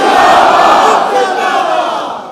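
A large crowd at a religious gathering in Lahore roars a slogan in unison, a dense, loud wall of voices that stays strong and then slowly fades over a couple of seconds.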